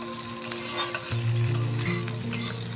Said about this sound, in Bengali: পেঁয়াজ দিয়ে আমি আবারও একটু নেড়ে চেড়ে নিচ্ছি